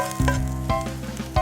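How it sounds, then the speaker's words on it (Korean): Mushrooms sizzle steadily as they are stir-fried in a pan, with a few louder scraping stirs of the utensil breaking through the constant frying hiss. "버섯이 다 볶아졌고요"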